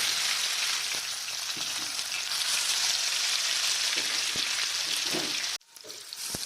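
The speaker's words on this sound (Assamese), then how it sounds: "চিকেন লেগ পিচ মই মিঠাতেলত ফ্ৰাই কৰিম" Chicken leg pieces fry in hot mustard oil with a steady, close, loud sizzle and crackle that continues unbroken and then briefly drops away near the end.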